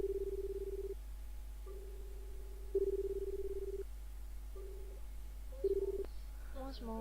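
Phone dialing in a video game, a repeating ringback tone in long even beeps with short gaps, steady and close, followed by a brief click as the call connects, over a constant low hum.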